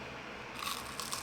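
A crunchy bite into a honey chicken piece at a Seoul eatery, heard as a short, close, crisp crackle of a couple of sharp bites after a quiet moment.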